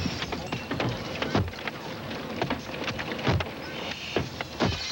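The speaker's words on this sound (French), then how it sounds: "Les grêlons tombent comme des cailloux et ils produisent un bruit terrifiant." Hailstones hit a car in a dense, irregular patter of hard knocks, with a few louder, heavier thuds standing out close by; no one speaks.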